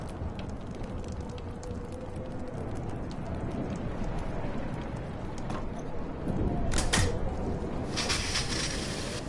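A rainstorm in the video game Life is Strange hisses steadily as a dense wash of noise, broken by a few sharper clattering bursts toward the end, with no voices.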